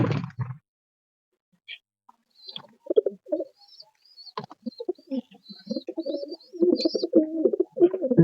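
Pet pigeons, a male and female pair, coo at close range in soft, throaty bursts that come in irregular clusters, separated by brief silences and thin higher chirps.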